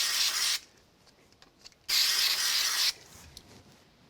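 Two short bursts of spray glue hiss close up, separated by a quiet pause with faint handling noises.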